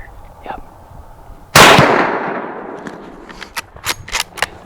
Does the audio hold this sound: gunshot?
yes